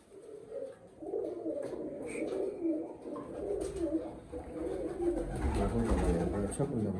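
Pigeons in a breeding loft coo softly and repeatedly, with scattered bird calls and background rustle throughout; the sound stays moderately distant and fairly quiet.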